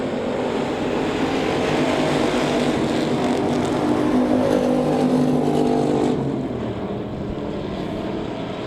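Race cars roar around the dirt oval at Devil's Bowl Speedway in a loud, continuous engine drone, with several cars blending together as they pass nearby, the pitch swelling and then easing off toward the end.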